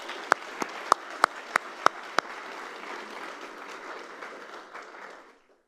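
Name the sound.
audience applause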